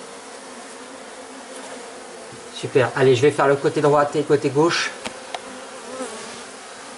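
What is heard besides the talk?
honey bees buzzing after rescue by vacuum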